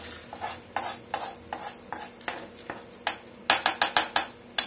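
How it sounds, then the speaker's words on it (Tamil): Dried red chillies frying crisply in a pan while being stirred, a rhythmic series of scraping, rattling strokes growing louder toward the end, with no talk. "மொறு மொறு மொறுன்னு வரும் பாருங்க சத்தம் கேக்குதா"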